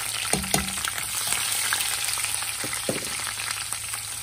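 Cumin, mustard seeds, green chillies, garlic and coconut sizzle steadily in hot oil over medium flame for mango coconut pickle, a constant close crackle broken by a few sharp spatula scrapes and taps, no voices.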